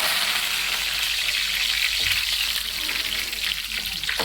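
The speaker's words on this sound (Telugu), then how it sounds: "ఇది కూడా తాలింపు పెట్టేస్తున్నాను రెండు మిరకాయలు వేసాను" Two dried red chillies and curry leaves for a tempering crackle and sizzle in hot oil, cooked for a village-style gongura chutney. The frying is steady and dense close by, with a few sharper pops and no talk.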